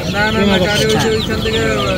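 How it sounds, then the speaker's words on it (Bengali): Chicken clucking and squawking mixes with busy chatter in a noisy bird market at Kamalapur railway station, with several birds calling at once throughout. "এটা হচ্ছে আপনার চিটি মুরগি"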